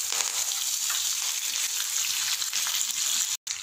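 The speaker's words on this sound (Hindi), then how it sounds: "राई जब इस तरह से चटकने लग जाए तो गैस का फ्लेम ऑफ कर लेंगे और कड़ी पत्ता डाल देते हैं।" Mustard seeds and curry leaves crackle steadily in hot oil for a chutney-style tempering, a continuous close, bright sizzle with dense popping and no talk, cutting out briefly near the end.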